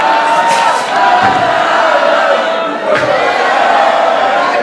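A wrestling crowd at a rumble match roars and jeers after a wrestler is eliminated, loud continuous shouting and chanting with a couple of sharp thuds cutting through.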